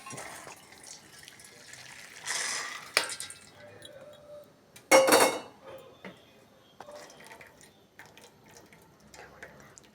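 Cooked food in a pot is drained through a strainer, with bursts of pouring, splashing water, clinks of utensils and a metal pot, fairly faint and close by, with no talking.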